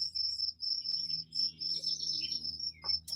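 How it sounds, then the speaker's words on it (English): Cricket chirping in steady pulsed trills, about six bursts at a regular rhythm, loud and close in an overgrown lawn, with faint low background hum and no talk. "if I could find the cricket"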